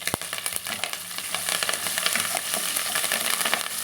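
Curry leaves and slit green chillies crackle and sizzle in hot oil in a pan for tomato rasam, a dense, close popping hiss throughout, opened by one sharp clink.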